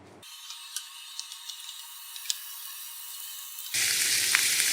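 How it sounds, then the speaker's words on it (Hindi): Chicken sizzles in hot oil in a pan with a constant hiss and scattered pops, growing noticeably louder near the end. "2 चम्मच ऑयल डाला है मैंने, साथ ही मैं चिकन ऐड कर देती हूँ।"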